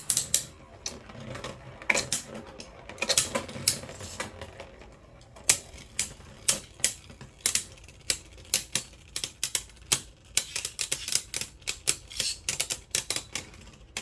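Beyblade Burst QuadDrive tops battling in a stadium, giving a long run of sharp clicking impacts and rattles, irregular at first, then a quick steady patter, close and fairly loud, with brief talk.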